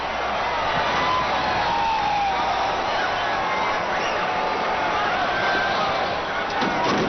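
A huge horse-racing crowd of over 55,000 at the Belmont Stakes lets out a broad, sustained roar. The wash of noise holds steady and fills the whole moment with no clear gaps.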